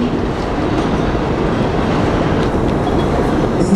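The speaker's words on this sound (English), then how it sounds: "There is a Local 7 Train to Flushing Main Street. Approaching the station" A Local 7 subway train bound for Flushing Main Street pulls into Woodside station, a steady loud rolling rumble with clattering wheels throughout, heard up close from the platform.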